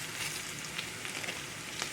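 Flour-dredged pork chops frying in a pan, a soft continuous sizzle and crackle heard close up on its own.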